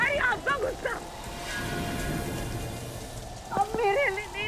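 Steady rain hisses down as a woman stands out in it, with voices talking over the downpour at the start and end.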